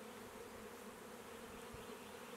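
Honeybees in an opened hive, just calmed with smoke, give a steady low drone of many wings, close but faint, with no voices.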